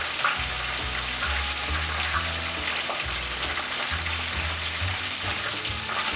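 Fried chicken pieces sizzle steadily in hot oil with a dense, continuous crackle. A low droning tone runs underneath throughout.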